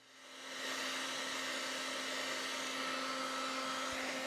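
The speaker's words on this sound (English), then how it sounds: "Put a little bit of heat on these intake boots just to soften them up a little bit" A heat gun warms the rubber carburetor intake boots on a 2003 Honda Shadow Spirit VT750 motorcycle, a steady airy roar with a faint hum that swells in over the first moment and then holds constant.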